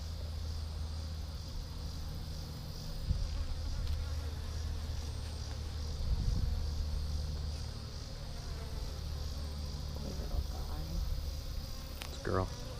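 Honey bees drone steadily inside a top bar hive, a continuous close buzzing hum that runs the whole time with a few brief handling knocks.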